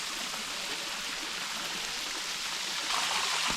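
Steady, rushing water splashing and trickling close by beneath icicles on ice, a continuous bright hiss that swells slightly louder near the end.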